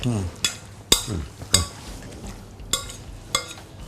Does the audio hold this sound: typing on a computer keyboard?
no